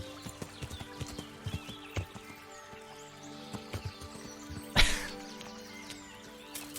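Horse hooves clop in a steady walking rhythm in the medieval game Kingdom Come: Deliverance, soft and close over low background ambience, with one louder thud or crash partway through.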